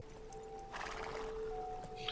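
A horse whinnies in a dramatic scene, a mid-level neigh rising out of a steady tonal background, with faint clip-clop-like texture and no talk.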